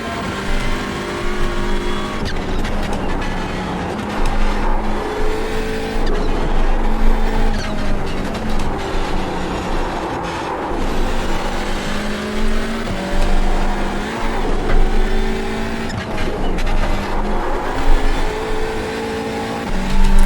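Hyundai Elantra TCR race car in iRacing at Knockhill, its engine droning loud and steady, revving up and down through gear changes with brief tyre squeal, running continuously without talk.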